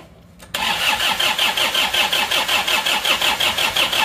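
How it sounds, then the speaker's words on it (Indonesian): Isuzu Panther diesel engine cranked on the starter and catching, then settling into a steady, loud, close rhythmic idle after the timing belt was replaced. "start awal mesin Panther setelah putus askreknya ya, ini hidupnya bagaimana. Yuk starter yuk."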